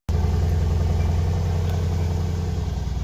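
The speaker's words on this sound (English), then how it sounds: "let's quickly start the car up" A Mercedes C63 engine fires up abruptly and settles into a loud, steady low rumble at idle, close by and continuous throughout.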